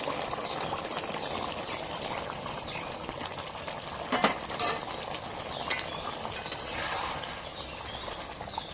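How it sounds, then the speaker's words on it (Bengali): Fish curry made with ground spices and small fresh carp simmers in a pot, giving a steady, soft bubbling and hiss with a few faint clinks, fairly close and with no speech. "মাছের ঝোলটা হয়ে গেছে রান্না টকবক করে ফুটছে"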